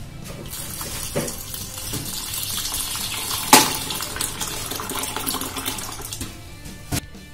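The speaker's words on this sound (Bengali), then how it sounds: "এবার এই ডালটাকে আমি 2-3 বার ভালো করে ধুয়ে নেব।" Chana dal is washed under running tap water, a steady close splash and trickle with one sharp clink midway and another knock near the end.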